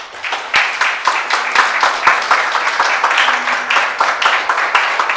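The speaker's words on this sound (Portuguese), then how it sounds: "Aplauda Jesus por isso." Congregation applause during a church service, a dense steady wash of many hands clapping for about five seconds with sharp individual claps standing out, loud and close.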